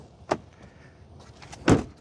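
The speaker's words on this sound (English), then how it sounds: "Let's listen to the sound of the closing door." A 2024 Chevrolet Silverado 1500 ZR2 Bison pickup door shuts, preceded by a lighter click or latch sound, then one loud, solid thud near the end, close to the microphone with no talking.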